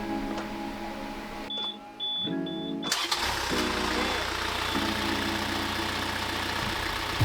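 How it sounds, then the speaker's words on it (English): A sailboat's auxiliary engine, its alternator belt taken off, cranks briefly and catches, then settles into a steady low idle that runs on, with a short electronic beep during the start. "I'm going to see if the engine starts."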